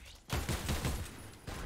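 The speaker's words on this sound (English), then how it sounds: "it sounds like a heavy machine gun" Heavy machine gun fire from an LMG in Fortnite, Chapter 4 Season 3: a sustained, rapid burst of loud gunshots lasting over a second, pausing briefly before another shot rings out.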